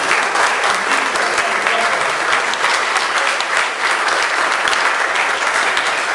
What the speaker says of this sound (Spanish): para el que pido por favor aplausos